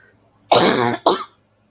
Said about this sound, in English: Sorry, I still got stupid cough.